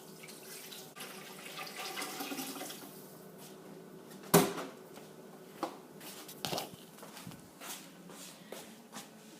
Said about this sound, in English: we're going to fill half of that giant pot with water